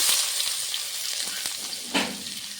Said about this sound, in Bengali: পেঁয়াজ রসুন কাঁচা লঙ্কা ভালো করে ভেজে নেব